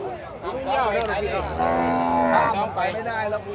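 Cattle mooing at a busy livestock market in Ban Chiang Wang, Yasothon, Thailand, with several loud, drawn-out moos close by over the steady hubbub of a crowd.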